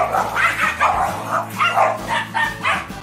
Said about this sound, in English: Here's another dog breaking up a fight, this time between two significantly more yappy dogs.